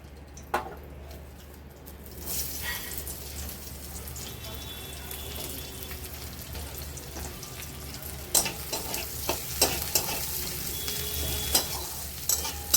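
Fish frying in oil gives a steady sizzle throughout, with sharper crackles and spatters toward the end; close and moderately quiet, no talking.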